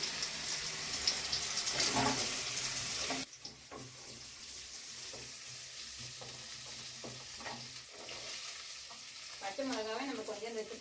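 Garlic, onion and mixed vegetables sauté in a pan with a steady close sizzle, spoon scrapes and stirring clatter throughout, and a brief splash of running water from a tap at the start.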